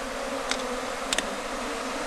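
Honey bees buzz softly around the comb of a Kenya top-bar hive during an inspection in Ghana. The hum is faint and continuous, with a couple of tiny clicks.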